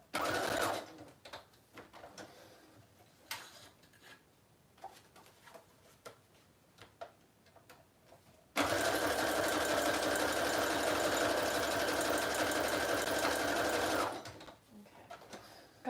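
A sewing machine runs in one steady, loud burst of about five and a half seconds as it stitches along the top and bottom of a junk journal. Quieter handling noises come first, and no one speaks.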